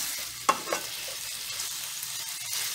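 Beef pieces browning in olive oil in a pan for beef and broccoli get stirred, with a couple of close scraping knocks over a continuous sizzle.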